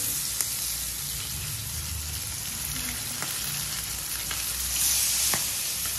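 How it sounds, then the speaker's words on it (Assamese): Continuous crackling sizzle of fish frying in oil, fairly quiet and even, with a few sharp pops and a low hum underneath. "মাছ কেইজনি লাহেকে ভাজিলো"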